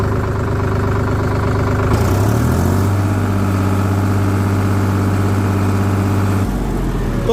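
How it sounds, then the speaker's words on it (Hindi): A new model tractor engine runs loud and close, settling into a steady low idle rumble with a brief shift in pitch partway through and a drop in tone near the end. "यहाँ पे मैं आपको स्टार्ट करके दिखा दूँ, हाई लो न्यूट्रल करके ट्रैक्टर स्टार्ट होना।"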